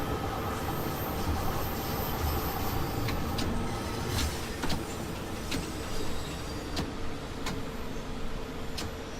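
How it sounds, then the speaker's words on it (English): Rail cab ambience from Train Sim World 2, with steady running rumble and scattered sharp clicks from the camshaft control as the train notches up, the clicks irregular and fairly quiet in the background. "That clicking you can hear in the background is a unique behaviour, a sound effect on this train as well."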